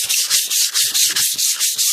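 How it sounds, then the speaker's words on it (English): Hand sanding the body of an 88 Cadillac DeVille by hand: steady rhythmic strokes of abrasive paper scraping over the panel, about ten back-and-forth passes, close and fairly loud with no voices. "I'd rather use my hand, cause I can really tell how deep I'm sanding like this"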